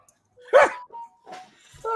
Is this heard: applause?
no